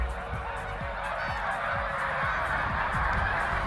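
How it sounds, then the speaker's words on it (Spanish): A large flock of geese at the Doñana wetlands honks continuously, many overlapping calls forming a loud, dense chorus over a steady wash of background noise. "Hace unos años llegaban hasta el parque miles de gansos para pasar aquí sus inviernos."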